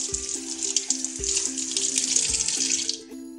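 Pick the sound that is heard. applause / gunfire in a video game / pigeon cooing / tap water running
tap water running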